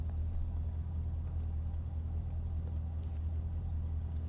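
A nearby car engine idles with a steady, low rumble that continues throughout without any talking.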